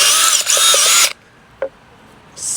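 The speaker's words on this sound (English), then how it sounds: "I will now drill a hole with 7" A power drill bores a 7 millimeter hole into a wooden gymnastics ring. It gives two loud, high whining bursts with a short break between them, then a brief clack, then silence, and the motor starts again at the end.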